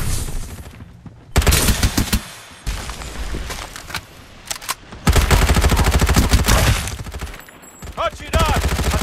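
Rapid automatic gunfire from the Farlight 84 video game comes in several loud bursts separated by short pauses. Some volleys are long and sustained, and others are clipped, punchy shots, all alone without talk.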